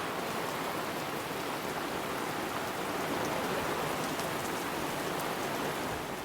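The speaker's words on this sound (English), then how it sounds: "it just went from a little bit of rain to a lot of rain" Heavy rain pours down at a campsite with a tent in Forillon National Park, Québec, a loud, constant roar of drops, unbroken from start to finish, with no one speaking.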